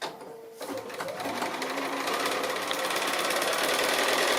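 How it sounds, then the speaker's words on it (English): Sewing machine stitching foundation-pieced quilt block pieces, starting after a brief quiet moment and settling into a steady, close, rapid mechanical whir that runs to the end. "I'll go ahead and stitch this one on and press it"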